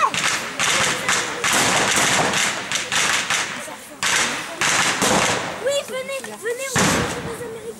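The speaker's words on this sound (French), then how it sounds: "Ils arrivent, les pétards." Firecrackers popping in repeated sharp bursts along a street during a 70th liberation anniversary parade in Boiry-Notre-Dame, France, loud and near, with people talking and calling out throughout.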